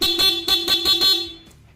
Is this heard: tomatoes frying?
no